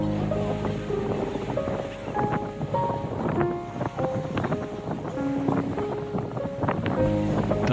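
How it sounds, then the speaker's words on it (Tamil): Ocean waves at Dhanushkodi surge and wash in a steady, continuous roar, overlaid by heavy wind buffeting the microphone, with no voices. "2 சைடில் இருந்து வந்து மோதுறது வந்து ஒவ்வொரு அலையும் எதிர்த்து போகிறத பார்க்குறக்கே சூப்பராக"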